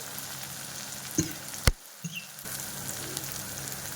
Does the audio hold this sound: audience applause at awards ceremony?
no